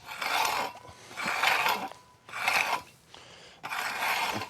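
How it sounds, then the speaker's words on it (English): A garden rake scrapes through dry, dusty soil in four separate rasping strokes with short pauses between them, close and moderately loud, with no voices. "let's go ahead and get the rake and rake this"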